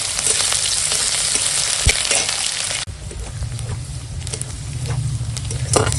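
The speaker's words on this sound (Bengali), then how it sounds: "তেল গরম হয়ে গেছে দিয়ে দিলাম পেঁয়াজটা ভেজে নেবো" Onion, crushed garlic and green chilli fry in hot oil, a loud continuous sizzle that eases slightly midway then carries on steadily with faint stirring taps.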